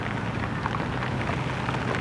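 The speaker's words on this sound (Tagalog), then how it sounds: "So ang lakas ng ulan." Heavy rain pours down steadily during a typhoon, a dense hiss and patter on hard surfaces, loud and close with no voices.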